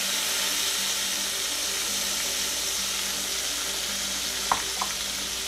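Tamarind water poured into a pan of frying spices, a steady bubbling sizzle close up and continuous, with a couple of small clinks near the end.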